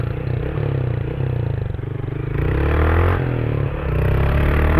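A motorcycle engine revs hard during wheelie practice, a loud, close, rasping drone that rises and pulses with the throttle along with some mechanical clatter.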